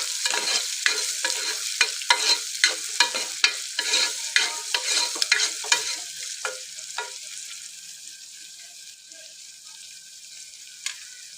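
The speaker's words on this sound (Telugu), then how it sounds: "ఇప్పుడు ఇది ఒకసారి మంచిగా కలుపుకుందాం." Onions and green chillies frying in a pan are stirred with a utensil: a quick run of scraping strokes over steady sizzling, then the stirring stops and the frying fades to a softer hiss.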